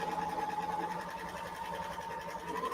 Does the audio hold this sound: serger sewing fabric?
yes